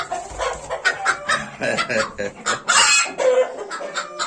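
A chicken clucks loudly and repeatedly up close in a Turkish farmyard, bursts of cackling and crowing-like calls, with people talking over it.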